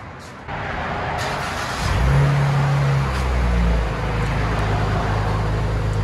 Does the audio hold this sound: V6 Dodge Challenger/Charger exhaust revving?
yes